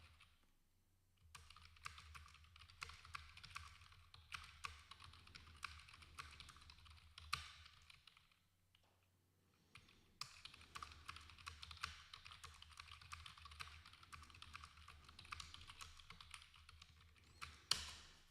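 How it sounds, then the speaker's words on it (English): Computer keyboard typing with steady clicking keystrokes in bursts, pausing briefly around the middle, with a low constant hum underneath and no talk. "I'm typing at the moment."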